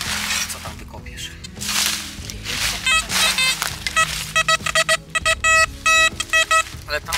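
A metal detector gives repeated electronic beeps and tones while digging for coins at an old settlement site, loud and close, in bursts over rustling noise, with voices talking nearby.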